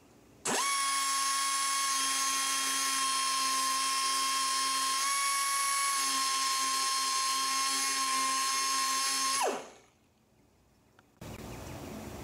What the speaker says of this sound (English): First, grind off both pin heads at a side link.